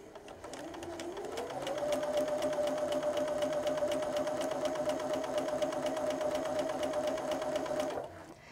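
A sewing machine stitches a half-inch seam on quilt-block fabric, running steadily and close for about seven seconds as one continuous whirring hum before it stops.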